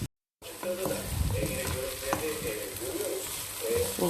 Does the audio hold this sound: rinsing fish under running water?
no